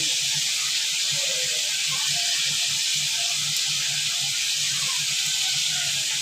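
Onion and green chilli fry in oil, giving a steady, loud, continuous sizzle that holds evenly throughout.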